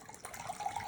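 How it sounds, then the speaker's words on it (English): Water pours steadily into a measuring cup beside a jar of fermenting asparagus, a brief close trickle rising slightly in pitch as the cup fills. "I'm going to pour the water back into the measuring cup"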